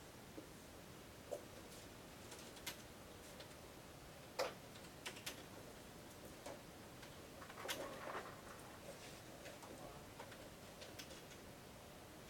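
Students type on computer keyboards in a lecture room, with sparse, faint scattered key clicks and taps spread across a quiet, hissy room tone.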